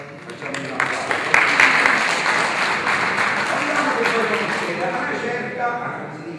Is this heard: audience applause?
yes